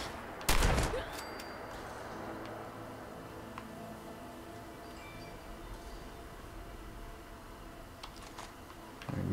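A single loud, close gunshot cracks out in the video game Fallout 76, followed by a low steady ambient hum and a few faint clicks, with another softer shot-like hit near the end.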